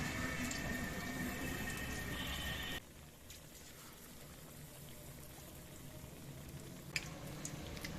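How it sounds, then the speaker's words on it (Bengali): Cauliflower pieces coated in gram flour batter sizzle steadily in hot oil as fritters fry, a continuous close crackle that drops to a quieter bubbling partway through, with a few sharper pops near the end. "এখন এই বেসন সাথে দিয়ে তারপর তেলে দিয়ে দিব"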